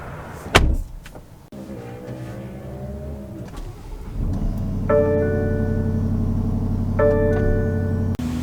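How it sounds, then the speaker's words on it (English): The electric motor of a 2023 BMW X5 M50i's power-adjustable steering column whirs with a steady hum and a rising tonal whine in two stretches, heard close up inside the cabin with no talking. "And then the steering wheel is power adjustable."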